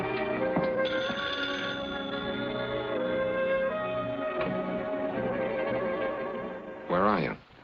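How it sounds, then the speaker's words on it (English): A telephone bell rings continuously in the background beneath a steady wash of music in a 1948 film, ending with a brief voice. "Your phone's ringing."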